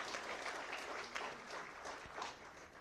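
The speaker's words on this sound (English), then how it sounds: "Let's give them another round of applause," Audience applause at the official opening ceremony of SWAITEX 2024, a dense, steady crowd of clapping hands that stays loud and even from start to finish.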